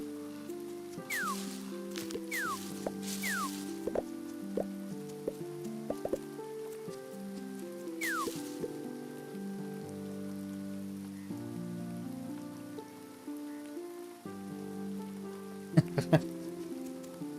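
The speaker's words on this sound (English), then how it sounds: "Nope, it's just raining." Soft, steady rain in the video game Grimshire patters on a surface at low volume, with a few sharp tapping sounds and a low hum running underneath.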